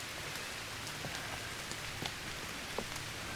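Steady rain falls on the Cecil Cove forest trail as a dense, even hiss with scattered light drop ticks, close and continuous, with no voices.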